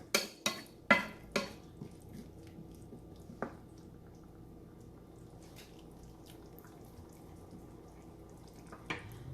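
Mutton stew in a pot is stirred, giving a few wet, clattering scrapes and squishes near the start, then quieter occasional bumps and thick simmering sounds, with no talk.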